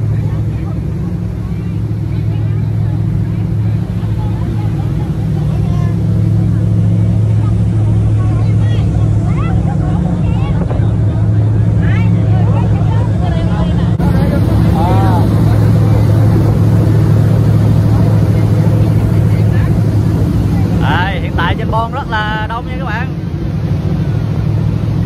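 A Mai Linh Express high-speed passenger boat runs fast on open water, its steady engine drone buried under loud, buffeting wind roaring across the microphone, with a voice speaking now and then through the noise.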